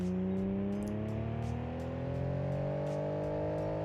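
A car engine in the BeamNG.drive video game is held at full throttle in fifth gear on a dyno, giving a loud, steady drone whose pitch climbs slowly across the run, with faint periodic clicks above it.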